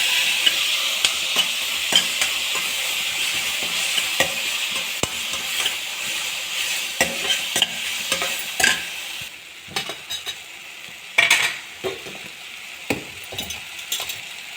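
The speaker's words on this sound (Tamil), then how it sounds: "நல்லா வதக்கிக்கோங்க." Onions and tomatoes sauté in a pan for brinjal gothsu while a spatula stirs and scrapes repeatedly, loud close sizzling with clinking strokes throughout, no voices.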